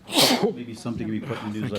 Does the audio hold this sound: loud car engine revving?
no